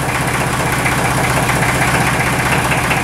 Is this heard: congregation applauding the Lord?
no